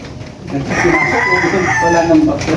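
A native game-farm rooster in Pampanga crows once, a loud close drawn-out call lasting about two seconds.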